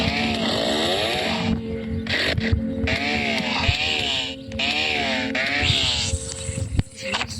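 A video game chainsaw revs and buzzes in a forest survival game, its pitch rising and falling in repeated surges over steady background game sound, with a voice chattering briefly between bursts.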